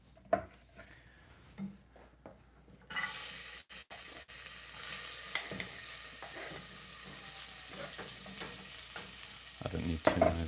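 Onions start frying in a pan, a brief clatter and then a sudden, steady sizzle that carries on with occasional stirring scrapes and clinks, close and moderately loud, no voices.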